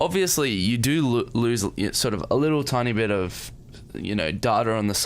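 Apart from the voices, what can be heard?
No everyday noises stand out.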